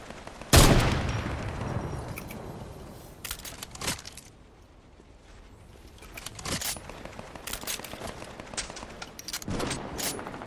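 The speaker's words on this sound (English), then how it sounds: "he got me with a shotgun" Shotgun blasts in a multiplayer shooter game, a loud close boom at the start followed by scattered sharper shots and game effects, with quiet stretches in between.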